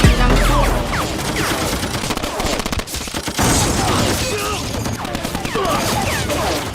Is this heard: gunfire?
yes